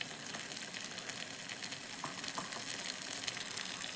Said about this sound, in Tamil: சேர்த்துட்டு நல்லா வதக்கி போட்டுக்கலாம்.